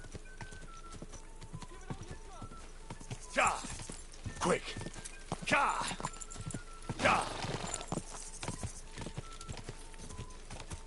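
A horse galloping in the video game Kingdom Come Deliverance 2, rapid hoofbeats throughout with several loud snorting whinnies, while someone shouts briefly.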